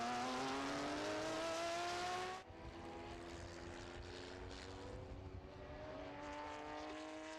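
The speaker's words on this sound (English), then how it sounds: "that noise of a hard accelerating 911 takes you straight back to the start-finish line at Le Mans" Yellow Porsche 911 race car accelerating hard past on a track at the Estoril Classics, a loud, sustained engine roar that drops in pitch and level as it passes, then continues more distantly.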